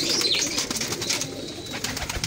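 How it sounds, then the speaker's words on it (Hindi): Soft pigeon cooing sits beneath a constant hiss of background noise. "ये डबल है, कबूतर है"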